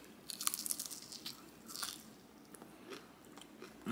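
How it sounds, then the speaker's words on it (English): A few close crunchy bites into air-fried chicken wings, sharp crackling crunches followed by quieter chewing, faint and without talk. "Yeah, hit a crunch."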